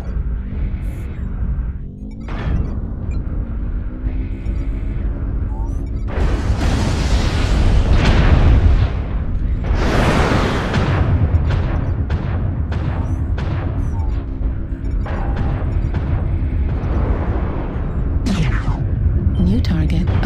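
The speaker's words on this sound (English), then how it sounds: "Artillery strike activated. Artillery strike target online." Repeated artillery strike explosions in a video game, a broad burst around seven seconds and a heavier one near ten, followed by a rapid string of sharper booms, all over a steady engine rumble and a mechanical voice.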